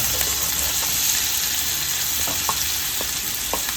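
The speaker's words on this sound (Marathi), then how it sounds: "आता कांद्याला ब्राऊन होईपर्यंत आपण फ्राय करणार आहे." Onion and curry leaves frying in hot oil in a pan, a continuous close sizzle with occasional light stirring clicks, no talking.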